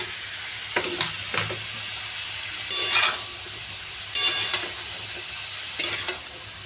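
Cut papaya and carrot fry in a pan, with a steady soft sizzle running underneath and a few bursts of stirring and scraping at intervals. Close and moderately loud, with no talking.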